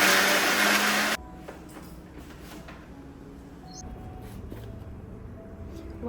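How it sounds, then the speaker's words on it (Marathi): A kitchen mixer grinder grinds green chillies, garlic, salt and coriander with a loud harsh whirring burst that cuts off abruptly after about a second, leaving a quiet low hum of the room. "मिक्सरमधून काढते मी"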